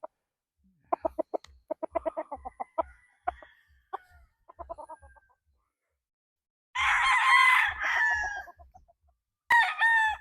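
A nine-month-old Gary Gilliam Roundhead gamefowl rooster gives soft clucks and grunts, then a loud, close crow, followed by the start of a second crow. No one speaks.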